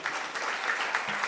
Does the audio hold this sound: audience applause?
yes